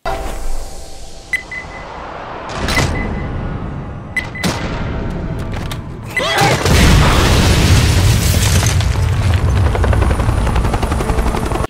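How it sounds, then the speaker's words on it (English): A helicopter in the Left 4 Dead video game roars in, its rotor chop growing loud and dense overhead after scattered booms and gunfire-like bangs. "You there in the flying aircraft!"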